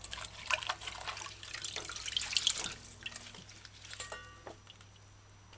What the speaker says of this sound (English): Wash the scallion's leaves clean.